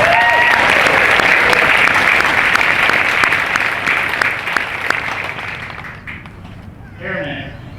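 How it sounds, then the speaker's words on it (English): Loud crowd applause at an Air Force basic military training graduation ceremony, honoring the training instructors, with dense clapping that fades out over several seconds before a voice briefly speaks near the end. "Let's give them a round of applause."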